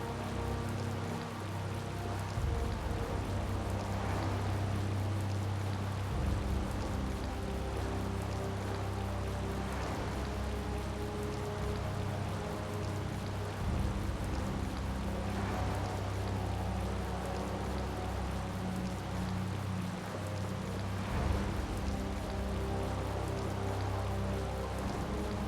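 Steady, continuous rain falls throughout in the Tales of Vesperia video game, an even wash of patter with no talking over it.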